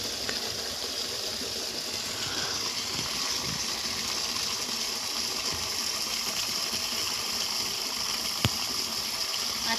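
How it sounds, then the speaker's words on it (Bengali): Buckets of water pour out in a continuous steady gushing rush, close and loud, with one brief knock near the end. "জলটা 2 বালতি এখানে দিয়ে দেবো"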